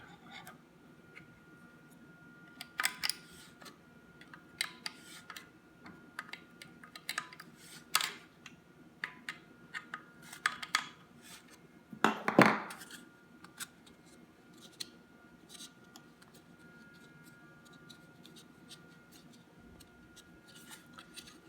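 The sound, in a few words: removing a Remington 870 shotgun forend nut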